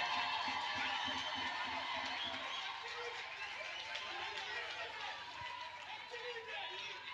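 A church congregation cheers and acclaims at a Sunday worship service, a distant, diffuse crowd roar of voices and whoops swelling under a voice speaking over it.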